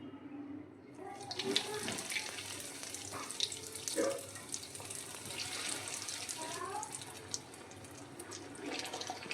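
Sev rolls deep-frying in hot oil, a continuous bubbling sizzle with crackly high-pitched fizz and occasional pops, steady and close, with someone speaking over it.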